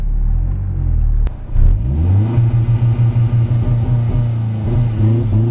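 A Mazda launches hard with launch control: a sharp pop, then a deep engine that revs up and bogs into a pulsing, stuttering rumble under heavy throttle, loud and close.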